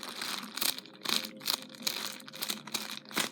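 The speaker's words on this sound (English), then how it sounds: "And squish it in there because some people like the crinkling of it." Plastic packaging of a squishy toy being crinkled close up, in quick bursts of crackling rustle separated by brief pauses, with no voices.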